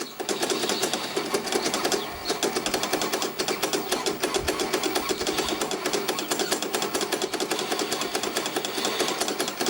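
A Sanyo Betacord video recorder's tape mechanism runs with a loud, steady, rapid mechanical clatter and whir, continuous and close throughout.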